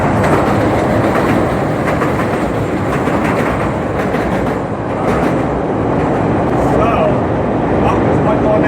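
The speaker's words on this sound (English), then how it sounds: "I live very close to the elevated train tracks here in Chicago." An elevated train passes on tracks close to a home in Chicago, a loud, sustained rumble and rattle with rhythmic clatter, steady throughout, with a voice talking over it.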